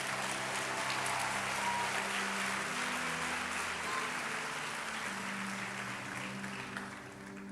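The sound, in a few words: applause in church service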